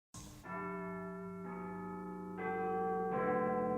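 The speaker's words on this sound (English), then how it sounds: "Then he heard a church bell ringing." A church bell rings at midnight in a foggy town, with several loud, sustained resonant strokes overlapping into a ringing hum, heard alone and close.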